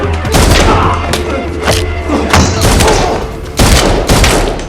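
Rapid gunfire in John Wick 4, a loud, close fusillade of repeated shots and heavy thumps, dense and irregular throughout.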